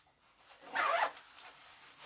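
A zipper on a reversible navy-and-khaki jacket is pulled in one quick, close rasping stroke lasting under half a second, amid quiet room tone.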